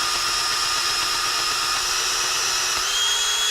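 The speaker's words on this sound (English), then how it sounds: "apply light to medium pressure while rotating the drill" High-pitched whining drill turning a hole saw runs steadily, with a slight shift in pitch near the end as the load changes.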